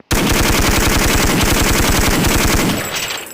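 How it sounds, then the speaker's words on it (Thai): Rapid automatic gunfire from a weapon in the Counter-Strike video game, a loud unbroken burst of evenly spaced shots lasting about three seconds before it tails off, with no talking. "มันจะยิงทีละนัดนะครับผม แต่ถ้าอยากให้มันยิงรัวๆก็ Attack"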